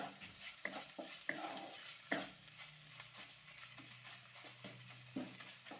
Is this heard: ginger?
yes